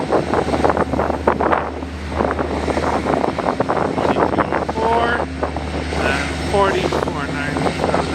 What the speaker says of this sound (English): I think I hear the engines coming.